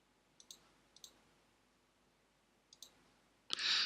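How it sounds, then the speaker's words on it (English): Computer mouse clicking through CRM software: three quiet, close double clicks spread across the clip, then a louder burst of noise at the end; no talking. "I now click the next button"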